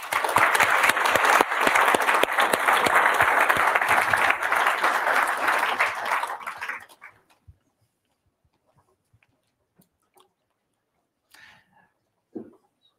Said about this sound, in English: please join me in giving Heather, Catherine, James and Stuart a round of applause